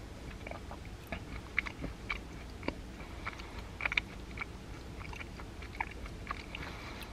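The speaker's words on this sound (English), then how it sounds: "did you hear the crunch?" Close, quiet crunching as a crisp snack is bitten and chewed, with a string of irregular sharp crackles spread over several seconds and no speech.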